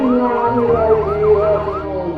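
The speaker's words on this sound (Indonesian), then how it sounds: "Raungan sirine ambulans pengantar jenazah COVID-19 semakin sering terdengar" Wailing ambulance siren on a COVID-19 hearse in Indonesia, rising and falling in repeated sweeps, loud and fairly close, over a low road rumble from the vehicle.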